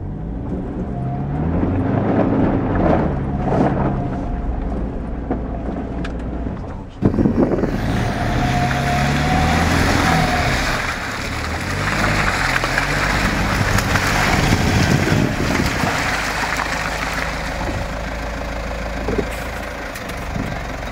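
Toyota Land Cruiser Prado with its stability control active, idling and then pulling away as the wheels slip, a steady low engine drone that rises with a sudden jolt and stays loud, close and continuous.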